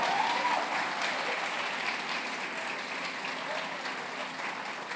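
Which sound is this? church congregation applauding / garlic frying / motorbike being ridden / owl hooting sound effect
church congregation applauding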